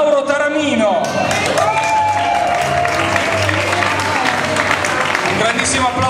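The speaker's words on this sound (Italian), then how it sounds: "Un grandissimo applauso per Mauro" An audience at a Hawaiian shirt contest breaks into sustained applause for a runner-up, with a steady wash of clapping mixed with shouts and crowd noise, while an amplified voice and music carry over it.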